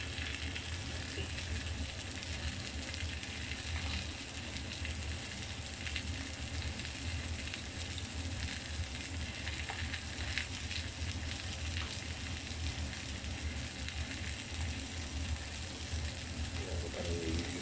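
Food frying in oil that has rendered out in the pan produces a dense, constant sizzle and crackle, close and fairly loud, continuing without pause and with no voices.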